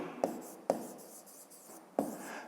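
Pencil writing numbers on paper for a fifth-grade math exercise, heard as a few close, quiet scratchy strokes with short soft rubbing between them.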